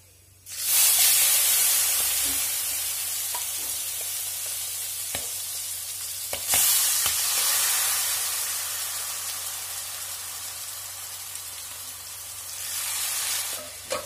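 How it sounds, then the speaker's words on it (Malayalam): Precooked chicken with a teaspoon each of coriander powder and chili powder fries in hot oil, giving a loud, steady close-up sizzle and hiss with a few faint stirring knocks and one brief break partway through. "ഇതെല്ലാം ചേർത്ത് കൊടുത്തിട്ട് നന്നായിട്ട് വഴറ്റിയെടുക്കുക"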